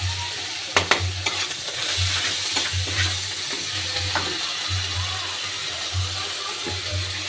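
Ginger garlic paste and coriander leaves sizzle as they sauté in a pan, a steady close hiss broken by stirring clatters and scrapes, with a low hum underneath.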